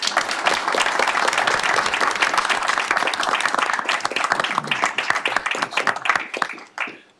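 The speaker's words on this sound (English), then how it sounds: "So just a round of applause for his action." A round of applause at a commission meeting, with dense, loud clapping from a roomful of people that thins out and fades away near the end.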